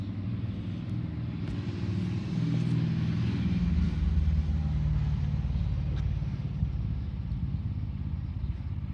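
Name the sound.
car engine running while being scanned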